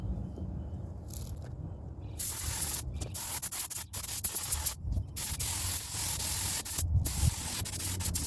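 Paint spray gun running at about 20 PSI, laying clear coat on a 350Z spoiler, hisses in loud bursts of airy spray broken by short pauses, near and steady while each pass lasts.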